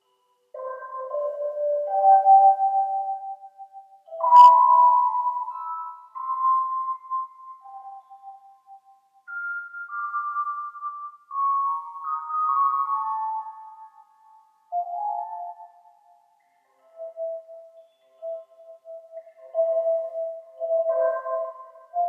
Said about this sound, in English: So if I just click on the music box here, I can throw up dissonant tines.